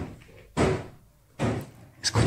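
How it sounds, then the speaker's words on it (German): Three heavy knocks or thuds come from an attic above, spaced irregularly and fairly loud, each a broad dull impact with a short decay and no voices over them. "irgendwas klopft oben auf dem Dachboden"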